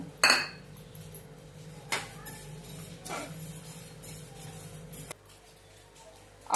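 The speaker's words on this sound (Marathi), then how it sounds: "पहिल्यांदा आपण तीळ भाजून घेऊया" Sesame seeds dry-roasting in a pan on a gas stove, with a few loud metallic clanks and scrapes of a utensil against the pan spaced seconds apart over a quiet, steady background.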